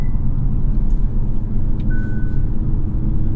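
Steady low engine rumble and road noise from a 2024 Hyundai Elantra N with a six-speed manual, cruising with stability and traction control off, continuous and fairly loud from inside the cabin with a faint brief tone partway through.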